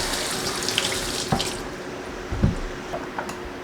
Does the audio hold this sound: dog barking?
no